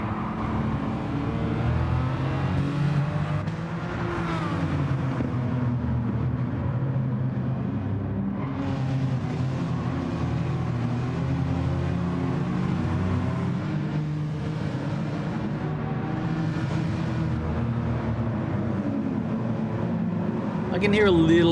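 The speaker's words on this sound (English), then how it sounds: "I can hear a little bit of V12 howl." V12 racing car engines in Gran Turismo 7 howl and rev in the distance, rising and falling over a steady roar, with occasional talking underneath.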